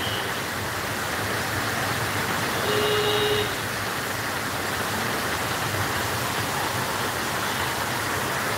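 A downpour of heavy rain drums on a flood-prone road in Sylhet, a thick, unbroken roar that stays close and loud throughout, with a brief faint tone in the middle.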